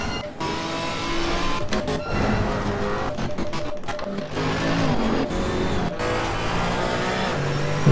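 A Porsche race car in Assetto Corsa Competizione roars past loudly, its engine note rising and falling amid the dense roar of other racing cars.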